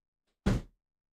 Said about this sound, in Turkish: Ya anne kapatır mısın kapıyı?